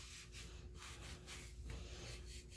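Sandpaper of 220 grit rubbed back and forth over a live edge wood round, a steady close scratchy rasp with rhythmic strokes and no talking.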